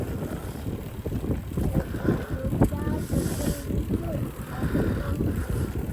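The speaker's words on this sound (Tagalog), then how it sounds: "Grabe itong nawa sa hangin mga eh." Strong wind buffets the microphone in a steady, rough roar, with gusts rising and falling and no speech over it.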